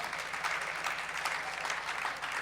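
Audience applause breaks out during a Jain religious sermon, a steady dense patter of many hands clapping for a couple of seconds, fairly quiet and even throughout.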